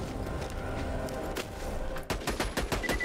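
Rapid bursts of gunfire in Borderlands 2, a dense crackle of shots that turns into sharper, separated bangs toward the end, with game noise underneath.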